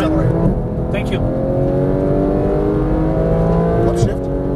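Porsche 911 GT3 (991) accelerating on a Las Vegas race track: a loud, steady in-car engine roar with climbing tone, brief tire noise, and a coaching voice speaking over it.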